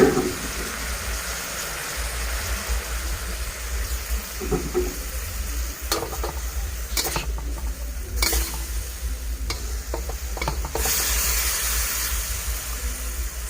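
Malabar spinach and pork belly stir-fried in a pan make a loud, continuous sizzle, broken by repeated scraping and clattering strokes of a spatula.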